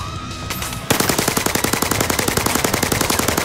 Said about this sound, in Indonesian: Tembakin aja terus.